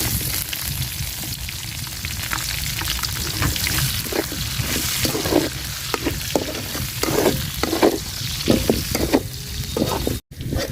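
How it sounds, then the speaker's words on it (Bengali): Chopped onion and green chili frying in hot oil, a loud close sizzle with rhythmic stirring and scraping strokes throughout, briefly cut near the end. "তেলে আমি পেঁয়াজ আর মরিচ কুচি দিয়ে দিলাম"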